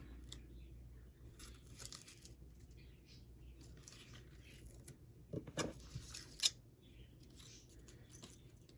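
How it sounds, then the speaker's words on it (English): Scissors snip paper while a Valentine card is being made, faint crisp cuts and soft rustling close by, in a quiet room with no talk. "Come on, scissors. You can't get sticky now."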